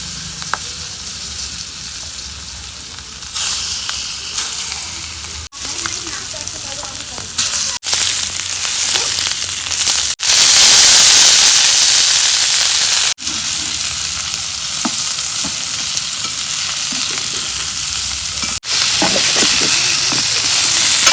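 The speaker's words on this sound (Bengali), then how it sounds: "মাছ ভাজা হয়েছে, মাছগুলো নামে দিই।" Loud, continuous sizzling of pangas fish frying in hot oil, with occasional stirring clatter and brief breaks in the hiss.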